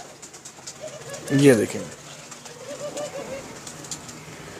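Crossbred show pigeons coo in a loft, repeated low rolling calls, while someone speaks briefly close by and steady ambient noise continues underneath.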